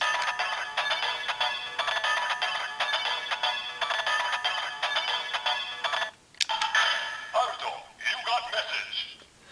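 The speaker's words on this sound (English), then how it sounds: "The first being a ringtone, and the second being a message tone." A tinny, electronic ringtone from a Kamen Rider Zero-One DX Hiden RisePhone toy jingles for several seconds, then stops and a short separate message chime sounds, close and fairly quiet.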